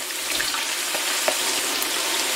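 Potatoes deep-frying in hot oil in a fryer, a steady, close, dense crackling sizzle with faint pops throughout and no voices.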